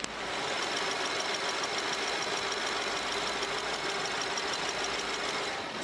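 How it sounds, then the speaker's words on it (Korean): A BMW 7 Series long-wheelbase's V8 engine of over 4000cc idles steadily nearby, a smooth, even hum with a faint ticking whir on top, no voices. "바로 엔진 소리 한번 들려드릴게요"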